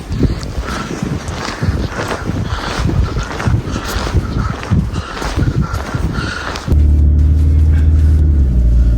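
A Toyota Hilux pushes through deep powder snow at -20°C, a rough, fluttering engine-and-wind rumble with crunching texture for most of the stretch, then abruptly giving way to a steady low drone near the end.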